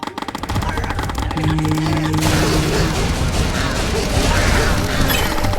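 Rapid bursts of gunfire in the game Zombie Rollerz: The Last Ship crackle loudly and continuously, automatic shots overlapping with a dense, chaotic backdrop of game noise.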